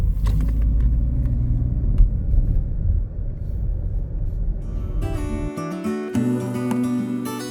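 A taxi cab carries passengers from a bus station toward lodging in Yilan, Taiwan, giving a steady low engine and road rumble for about five seconds before music abruptly takes over.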